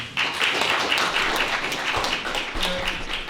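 Sustained applause from an audience at a Veterans Day ceremony honoring a speaker, dense and steady clapping throughout with a brief low thump near the end.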